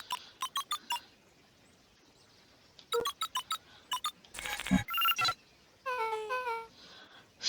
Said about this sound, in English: cracked his knuckles and entered the letters into the keypad.